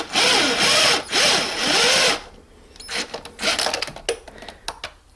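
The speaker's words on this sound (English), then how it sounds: "Those little screws are also a size 8 mil, so we could use the ratchet if need be." A tool turns the 8 mm screws on the air filter housing of a 2005 Honda CR-V. A loud whirring tool runs in three close bursts, followed by scattered clicks and scraping.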